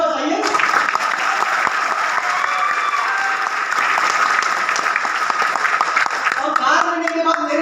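Dense, sustained applause from a large audience at a motivational sales meeting, steady loud clapping filling the whole stretch without pause.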